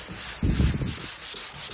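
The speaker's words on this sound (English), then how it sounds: "So we are using 220 grit, and I am sanding this by hand." Sandpaper of 220 grit rubs by hand across a car panel, a close, loud scratchy stroke followed by lighter back-and-forth scuffing, with no talk.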